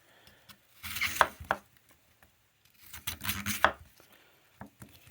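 A Casstrom Forest Knife slices through material in two short bursts of cutting and scraping, close and fairly quiet, separated by brief pauses.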